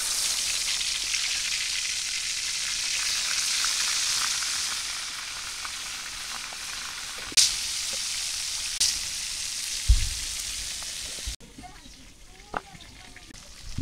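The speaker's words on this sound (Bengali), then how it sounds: "মাছ ভাজা বসাই দিলাম।" Turmeric-coated fish frying in hot oil in a wok gives a loud, steady hiss that runs for most of the span. A few sharp knocks break through near the end before the sizzle drops away.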